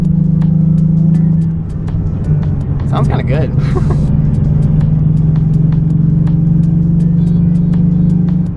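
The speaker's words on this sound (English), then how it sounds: "This is what it sounds like to get on the freeway with a Misfire." A Nissan 350Z engine labours and roars steadily while accelerating onto a freeway, with an uneven, stumbling misfire note; a person speaks briefly over it partway through.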